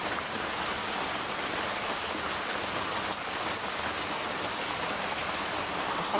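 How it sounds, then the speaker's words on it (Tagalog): Rain pouring outside on a cold day, an even, loud wash of drops hitting surfaces without pause. "Kasi umuulan."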